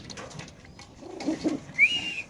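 Racing pigeons at a pigeon sale give soft, faint coos and a brief whistling call, sparse and close against a quiet background.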